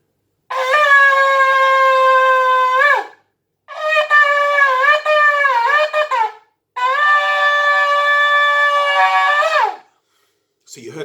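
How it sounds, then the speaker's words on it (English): Shofar blown in the Chabad style of Shvarim: three separate wavering horn blasts of about two to three seconds each, loud and close, with short silences between and no talk. "I'm just going to blow for you the Chabad way of Tkiya,"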